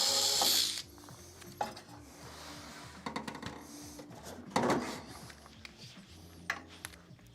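A ratchet backing the front screws out of a Skywalker coffee roaster, heard as close, quick clicking bursts in short spurts, with small metallic clinks and handling noise between them.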